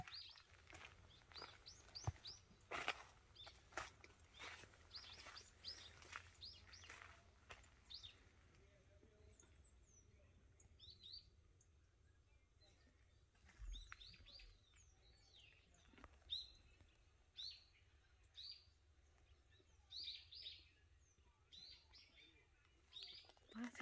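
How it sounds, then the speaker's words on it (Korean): Birds chirp and call repeatedly around an apple orchard in Hongcheon in the early morning: a scatter of short, fairly faint tweets over quiet background, with denser bursts early and later on. "새소리 좋다."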